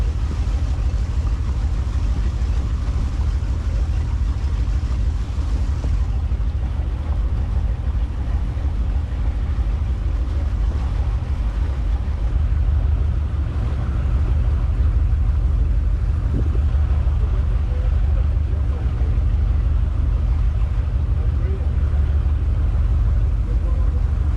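Boat motoring into New Providence Harbor in the Bahamas, with a continuous loud low engine and hull rumble mixed with heavy wind buffeting on the microphone throughout.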